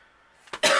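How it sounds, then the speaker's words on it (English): A single person coughs, a short harsh burst that starts quietly with a breathy lead-in and then breaks into a louder, close, rasping cough at the end. "I'm going to try to edit out some of these coughs"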